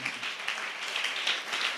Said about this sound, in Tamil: நல்லா 2 கையை தட்டி ஆண்டவருக்கு நன்றி சொல்லுங்க